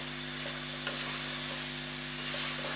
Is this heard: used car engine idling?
no